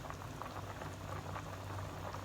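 Tom som mackerel soup bubbles in an uncovered pot, a soft, continuous low boil with faint popping, alone and fairly quiet.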